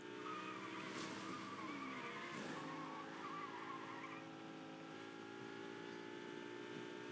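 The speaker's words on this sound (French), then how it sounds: "Petit dérapage." A race car drifting in the Fortnite video game, played from a keyboard: a sustained, layered tire squeal rides over a steady engine drone, loud and continuous for the whole stretch with no talking.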